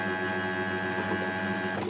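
A Kyocera copier runs while making a copy, a steady mechanical whir with a constant tonal hum, close and moderately loud, with a faint rising swish at the end.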